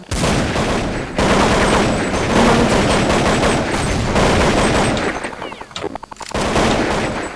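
Gunfire in the video game Counter-Strike 1.6, loud bursts of rapid shots and fusillades filling most of the stretch, with a short pause near the end before firing resumes.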